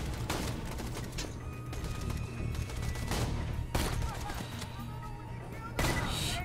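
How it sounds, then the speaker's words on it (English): Sustained gunfire and explosions from the video game Borderlands 2, a dense, loud barrage of shots with sharp booming bursts recurring throughout over a steady low rumble. "A little out of practice with this whole shooting thing."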